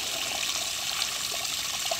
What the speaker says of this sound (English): That's how much groundwater and spring water it comes out of the ground.